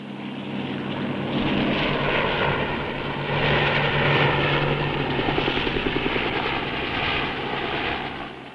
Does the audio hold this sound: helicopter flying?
yes